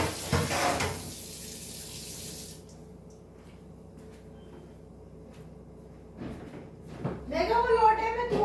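Water running from a tap into a container in a home kitchen, a steady hiss with splashing that rises at the start and again near the end, with clattering and handling sounds and someone talking over it.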